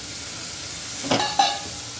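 Carrots and beans hitting a hot pan with chopped garlic and ginger, a steady soft sizzle with a couple of brief louder bursts as the vegetables go in and get stirred.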